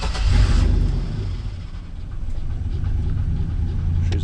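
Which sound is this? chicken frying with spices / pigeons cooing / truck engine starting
truck engine starting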